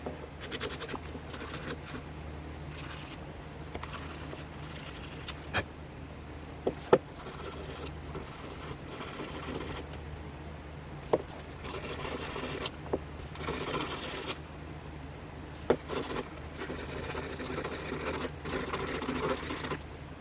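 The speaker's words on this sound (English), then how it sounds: "So we're just going to sand those off here real fast." Quiet hand sanding of small tabs on Maytag top-load washer repair parts, soft scratchy strokes in short bursts separated by pauses, with a few sharp clicks and taps from handling the pieces.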